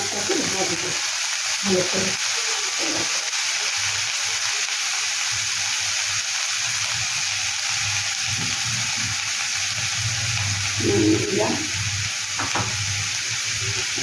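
Chopped onion fries in oil in a pan, a steady broad hiss of sizzling running throughout at moderate level, with a few soft clinks and stirring scrapes near the middle and end.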